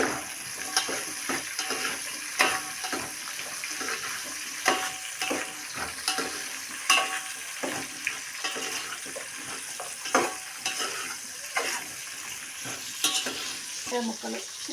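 Bottle gourd pieces fry and get stirred in a pan while sambar is cooked at home, giving a steady soft sizzle with frequent scraping stirs in repeated bursts, close up and with no voices.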